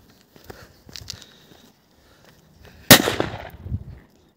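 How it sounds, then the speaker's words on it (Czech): A 1-gram Angry Bulldog firecracker bursts with a single sharp, loud bang near the three-second mark. Its crackling tail fades over about a second, after softer shuffling and handling noises. "A tady máme petardu Angry Bulldog."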